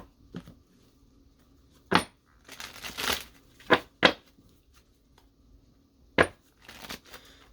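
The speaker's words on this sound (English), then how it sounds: "We're gonna shuffle and pull my little four here I've been pulling" Cards are shuffled in several short, crisp riffling bursts separated by quiet pauses.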